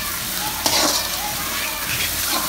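Fish being fried and worked with spices in a pan, a continuous close sizzle with a brief clatter of a utensil early on, moderately loud and steady.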